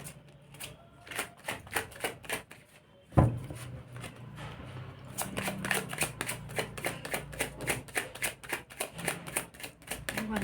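Tarot cards are shuffled in a quick riffling patter, then a sharp slap as the deck is handled, followed by more rapid shuffling and card handling, close and crisp, with speech at points.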